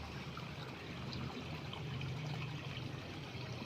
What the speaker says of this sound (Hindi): देखिए पानी साफ चश्मा बह रहा है किस खूबसूरती से